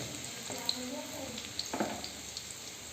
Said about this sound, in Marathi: दोन पळ्या तेल टाकलं गॅस येऊ फुल करू हे जिरे टाकले आता याच्यानंतर लसूण सोडा लाल तळायचं